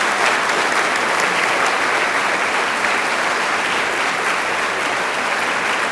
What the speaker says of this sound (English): Join me in applauding their efforts